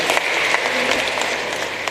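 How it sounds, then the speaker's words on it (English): A crowd at a memorial tribute gathering gives a loud, dense burst of applause that sounds close and steady for the whole two seconds, with no talking over it. "Give him a big clap."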